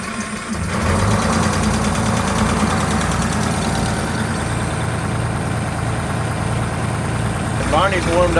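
A diesel truck engine idles after warming up and builds air pressure, giving a steady low chugging that starts abruptly and then holds constant and loud, with a short rising whistle near the end.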